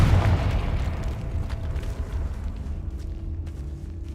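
A Confringo fire spell bursts in the Hogwarts Legacy video game, a loud, deep, rumbling blast that booms at once and rolls on as a dense, continuous roar for several seconds.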